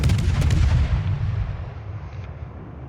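Shimakaze destroyer guns firing in a naval video game, a burst of quick sharp reports over a deep rumbling boom that fades gradually, loud and close with no talk.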